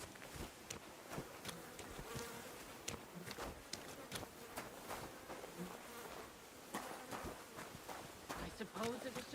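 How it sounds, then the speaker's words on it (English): A fly buzzes around a character's head in the medieval video game Kingdom Come: Deliverance 2, a faint, wavering drone mixed with irregular footstep-like taps and occasional speech. "I suppose it was just a fly buzzing around his head"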